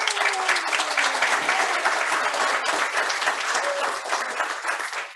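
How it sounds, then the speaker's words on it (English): A meeting audience gives a steady, dense round of applause lasting several seconds at even volume, with faint voices mixed into the clapping. "So we owe Bob a round of applause, please."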